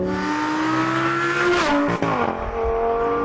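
A 550-horsepower Jaguar XJ220 supercar engine revs hard and loud up close, rising in pitch before a sharp gear change and a brief drop, then pulling again, with no voices over it.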